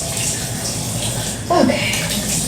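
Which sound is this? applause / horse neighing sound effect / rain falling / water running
water running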